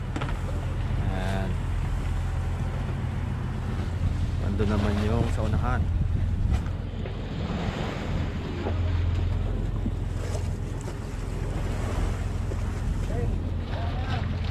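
A fishing boat out net fishing runs at sea with a constant low engine drone, while waves and wind wash over the hull. Someone talks over the din near the stern.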